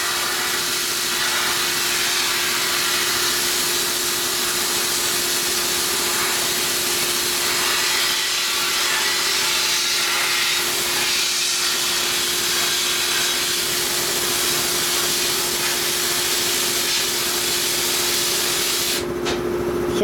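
Bead blasting strips heavy, crusted rust from the left gas tank of a 1930–36 VL/RL/DL motorcycle, a loud continuous hiss of blasting media over a steady machine hum, sustained throughout with no talking.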